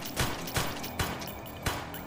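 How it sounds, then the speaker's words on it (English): Four sharp gunshots ring out in the video game Total Madness, spaced unevenly across about two seconds over a steady background hum. "Oh, now the gunshots work."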